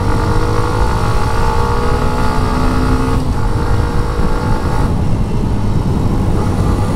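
A Hero Extreme 125 motorcycle engine drones loudly and steadily while being ridden, with slight pitch shifts as gears change, close and continuous with no talking.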